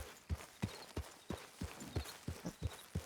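Hooves of a horse in Red Dead Redemption 2 clop in a quick, uneven rhythm, a dozen or so soft thuds close by, with a faint sense of the animal fussing.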